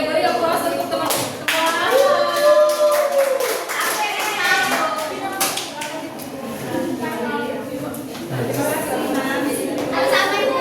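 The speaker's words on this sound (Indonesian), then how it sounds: "Oke, beri aplaus untuk teman-teman." Classroom applause for classmates: a burst of clapping from many hands that swells and fades in waves, mixed with children's chatter and a teacher speaking nearby.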